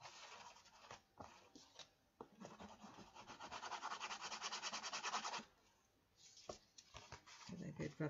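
Hand rubbing inside a small handmade craft piece, giving a steady scratchy friction that rises and falls in bursts, with brief pauses and a faint voice nearby.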